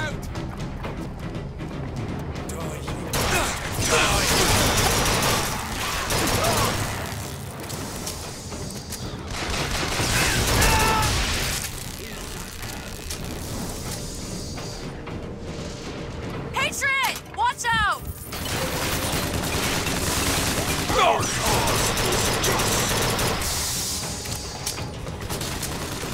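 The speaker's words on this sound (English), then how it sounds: "I can fire this thing wicked fast now." Rapid bursts of gunfire and booming explosions from a fast-firing weapon in Bioshock Infinite combat, loud and continuous, with shouted voices and game dialogue mixed in.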